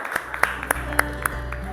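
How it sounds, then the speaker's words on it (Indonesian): A small classroom audience claps for a student group after their presentation, a sparse handful of distinct claps spaced unevenly over a faint background. "Tepuk tangan untuk kelompok 1."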